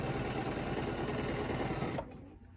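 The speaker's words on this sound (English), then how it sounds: "So I am going to simply stitch straight up until the back of my foot" Sewing machine stitching a quilt block with ruler work, a fast steady mechanical whir running continuously for two seconds before stopping abruptly.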